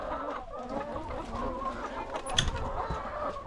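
A rooster on a farm gives a few soft clucks and short calls, fairly close, over a low steady outdoor background with no talking.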